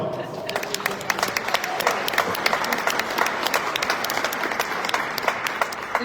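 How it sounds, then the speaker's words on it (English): A crowd at the South Dakota Capitol gives a round of applause at a gaming compact signing with the Standing Rock Sioux Tribe, dense sustained clapping from many hands held at a steady, fairly loud level throughout. "Let's give another round of applause"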